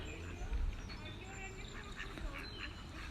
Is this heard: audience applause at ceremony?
no